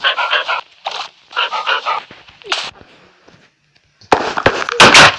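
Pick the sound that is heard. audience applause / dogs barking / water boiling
dogs barking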